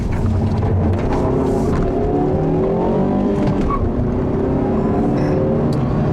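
A 2015 Mazda3 S GT with its 2.5-litre four-cylinder engine accelerates hard, a loud continuous rising engine note climbing through the revs from inside the car with steady road and tyre noise, no speech.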